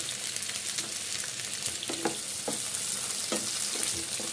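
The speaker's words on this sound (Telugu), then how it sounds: "ఇప్పుడు దీంట్లోనే కొంచెం నూనె వేసుకొని టమాటాలు వేసేసుకోవాలి." Tomatoes frying in hot oil in a pan, a steady close sizzle with occasional spoon scrapes and stirring knocks, no voices.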